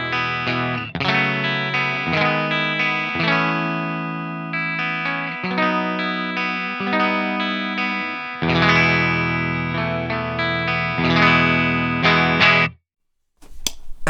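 Electric guitar with P90 pickups played through the clean channel of an Amped Volcano amp, ringing chords and sustained notes with chorus-like shimmer, changing every second or two, then cutting off near the end.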